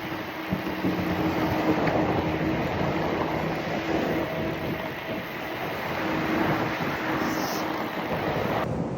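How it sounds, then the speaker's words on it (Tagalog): A strong headwind buffets the microphone during a long mountain bike ride, a loud steady rumbling roar with gusting swells and no voices. "Ang lakas ng hangin, kasalubong natin ang lakas ng hangin."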